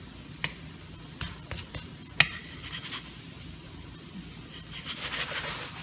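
Korean zucchini pancake frying in oil in a pan, a soft steady sizzle with a few sharp clicks and scrapes of a utensil against the pan, close and fairly quiet, no talking.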